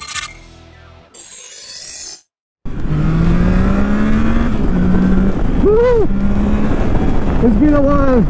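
A 2022 Triumph Tiger Sport 660 triple motorcycle rides on the road, its engine droning loud and close with rising revs and gear changes, after a short stretch of other sound and a brief silence.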